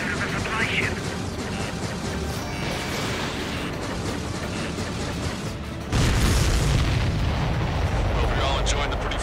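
Heavy booming missile explosions in the video game Ace Combat 7 rumble under a dense, noisy game soundtrack, growing louder and deeper partway through, with voices mixed in.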